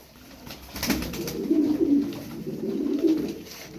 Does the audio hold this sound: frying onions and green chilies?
no